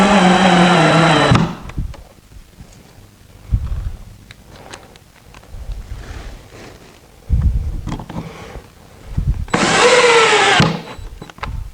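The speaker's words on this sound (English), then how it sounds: "I'm installing the last of the screws for the frame here." A power drill drives screws into the frame of a white work table in two loud bursts, one at the start and one near the end, with quieter shop handling noises between them.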